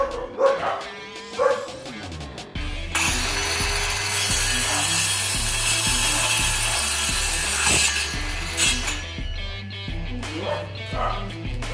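An Ingco cordless circular saw set to full cutting depth cuts through half-inch wood, a loud sustained whine of blade in timber lasting several seconds. Quieter clicks and handling sounds come before and after the cut.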